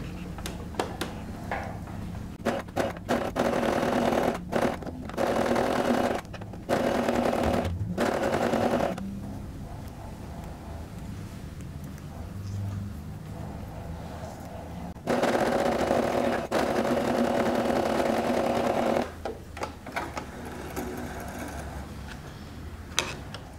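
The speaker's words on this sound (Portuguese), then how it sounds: "vamos passar uma costura aqui, um alinhavo na máquina" A sewing machine runs a wide, loose basting seam on fabric for a bathroom rug set, in several bursts of steady stitching separated by short pauses, with handling noise between runs.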